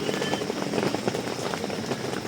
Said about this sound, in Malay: Hari kat luar hujan.